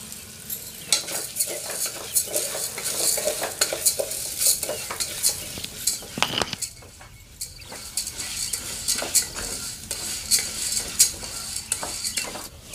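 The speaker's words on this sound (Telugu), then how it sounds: "ఒక స్పూన్ ఆయిల్లో ఒక కప్పు కందిపప్పు వేసుకొని ఆయిల్లో ఫ్రై చేసుకోవాలి" Toor dal frying in a spoonful of oil in a pan, with continuous sizzling and frequent scraping stirs and utensil clicks throughout, close up with no speech.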